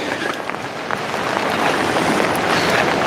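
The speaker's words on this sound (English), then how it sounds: "Oh yeah, it's raining." Steady rain falling among giant old-growth red cedars in a forest grove, a soft even hiss that grows slightly louder over the few seconds, with no voices.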